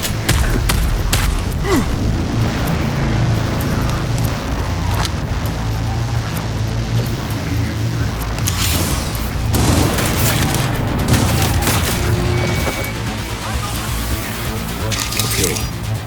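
Heavy gunfire in a Cyberpunk 2077 firefight, loud sustained shooting and booming blasts mixed with voices and game sounds.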